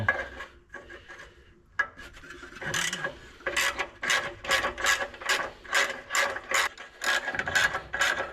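A ratchet works bolts loose on the exhaust of an EF Ford Fairmont, giving close, loud bursts of rapid pawl clicking that repeat in a steady back-and-forth rhythm after a few scattered clanks at the start.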